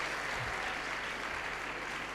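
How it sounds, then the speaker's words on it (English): Audience applause at a youth empowerment event, a steady, even wash of clapping heard from a distance, fairly faint and continuing throughout. "Let's give them a round of applause."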